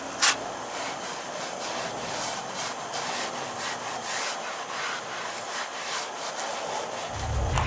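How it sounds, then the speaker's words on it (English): A sponge wipes tire protectant around the sidewall of a Subaru STI tire in steady back-and-forth rubbing strokes, close and fairly quiet, with no one talking over it. "So I'm going to be applying it using a sponge. So we're just going to put some on the sponge, wipe it off or wipe it around"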